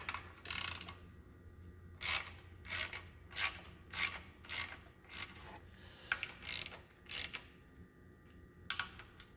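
A ratchet wrench tightens the valve cover bolts on a Honda GCV 190 engine in a star pattern, giving a series of close, crisp clicking bursts, about a dozen quick ratcheting strokes with short pauses between.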